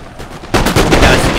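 Musket volley fire in Napoleon: Total War, a sudden dense crackle of gunshots breaking in after a quiet half-second and rolling on loudly as massed musketeers fire into a flank.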